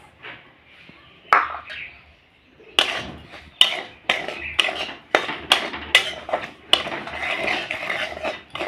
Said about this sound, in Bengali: এই সুজিটা প্রথমে আমি হালকা ভেজে নেব।